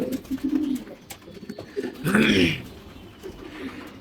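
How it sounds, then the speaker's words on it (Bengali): Young racing pigeons coo nearby, low throaty calls repeating, with one louder fluttery coo in the middle and faint background noise. "দেখেন কবুতরগুলি সব ছেড়ে দিছি কবুতর ছোটাছুটি করতেছে"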